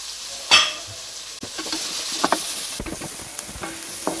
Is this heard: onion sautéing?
yes